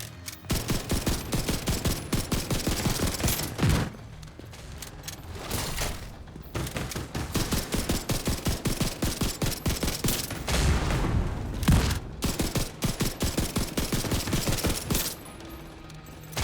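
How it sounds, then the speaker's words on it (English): Rapid bursts of automatic gunfire from The Division 2, loud and near, firing in long rhythmic volleys with brief pauses between them and occasional heavier booms. "Preparing to fire. Firing rods."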